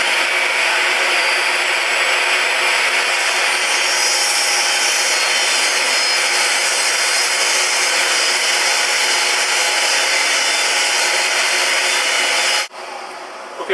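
A saw rips steadily through wooden boards for drawer fronts, a loud, continuous whining cut that holds for about twelve seconds before stopping abruptly near the end.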